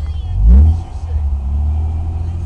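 A newly bought car's engine cranks and catches with a deep, loud low rumble, then settles into a steady idling drone recorded up close.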